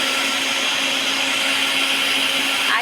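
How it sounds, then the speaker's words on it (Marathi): An electric mixer grinder runs steadily in a home kitchen, a loud continuous whirring motor hum that holds unchanged throughout with no talking over it. "मिक्सर सुरू झालं, मिक्सर सुरू आहे"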